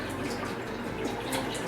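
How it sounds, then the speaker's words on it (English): Milk poured into a pot for Turkish yogurt, a steady close liquid rush that stays even and continuous throughout, with no voices. "So we're just going to pour our milk in"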